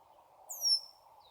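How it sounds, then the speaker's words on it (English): A single clear, high whistled bird call slides downward, followed by a brief fainter note, over a soft steady hum, in a marsh with red-winged blackbirds and marsh wrens. "let's take a few seconds to listen to the birds talking around us."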